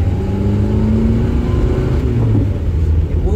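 A Renault 5TL with a 44-horsepower engine is revving up under acceleration, a loud, steady mid-pitched drone that builds continuously throughout.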